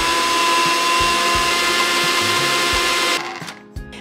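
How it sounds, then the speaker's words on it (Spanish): A blender whirs steadily while mixing egg, oats, chocolate powder, baking powder and a little sweetener, a loud continuous motor drone that cuts off near the end, followed by a few brief knocks. "En tu licuadora vas a poner tu huevo, tu avena, tu chocolate en polvo, tu polvo de hornear y un poquito de tu endulzante y lo vamos a licuar."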